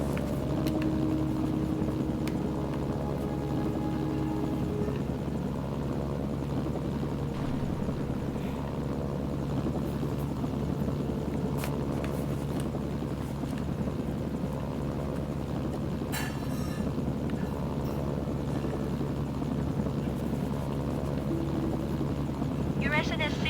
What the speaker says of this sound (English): Oh, perfect helicopter.